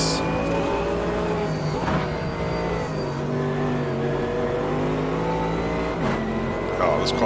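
GT3 race car engine in Automobilista 2 racing at the Nurburgring, a steady droning engine note with shifting revs and gear changes, running continuously under occasional talk.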